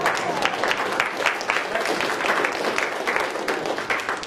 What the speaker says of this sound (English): That deserves clapping.